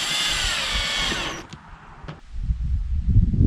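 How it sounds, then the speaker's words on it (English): A cordless drill whirs steadily as it drives a screw into the plastic cargo light housing of a 2015–2021 Ford F150, then stops abruptly, followed by a brief click and handling noises. "Grab your cordless drill and tighten it up."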